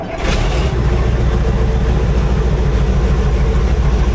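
An old KrAZ 255 heavy truck, standing unused for about twenty years, runs its engine in a loud, steady low rumble right after starting, settling into a continuous close idle with no voices.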